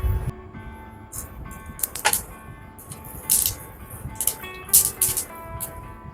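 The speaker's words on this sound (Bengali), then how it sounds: "দুটোকেই একটু চটপট করে ফুটতে দিতে হবে" Panch phoron and black mustard seeds crackle and pop in hot oil with a dried red chilli, making scattered sharp spits and crackles over a low background hiss, with no talking.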